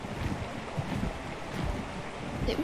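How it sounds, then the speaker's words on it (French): Rushing water from a large waterfall beside a small lake in the game Ark Survival Evolved, a steady broadband roar heard alone, wind-like and constant with slight surges. "tu vois la grosse cascade là?"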